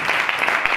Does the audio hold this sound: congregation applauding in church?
yes